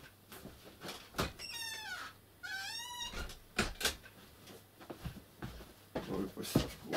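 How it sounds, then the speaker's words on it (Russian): A cat meows twice in long, wavering calls as it is let outside, with door knocks and shuffling around it and a person speaking nearby. "Выпустить кошку."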